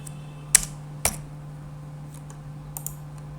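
A few sharp, isolated keystrokes clack on a computer keyboard in a quiet room, two distinct taps followed by a couple of fainter clicks against a low electrical hum.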